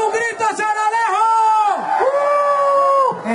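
A crowd at a political campaign presentation shouts and whoops for San Alejo, with long sustained voiced cries rising and falling loudly over several seconds.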